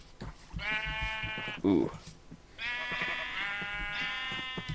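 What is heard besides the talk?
sheep bleating in the video game Create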